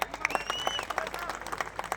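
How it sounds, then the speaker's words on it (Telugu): A gathered audience gives a short burst of applause, dense quick clapping from many hands at moderate distance that fills the whole moment without letting up. "గట్టి క్లాప్స్."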